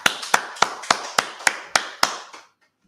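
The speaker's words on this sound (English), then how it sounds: "All right, clap it up." A group of people clapping together in unison at a brotherhood class, nine sharp, evenly spaced claps in a steady rhythm that stop abruptly, followed by silence.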